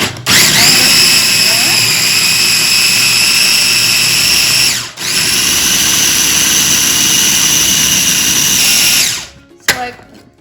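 Food processor grinding chickpeas for hummus, a loud high whirring motor running steadily for several seconds, cutting out briefly, then restarting before stopping with a clunk.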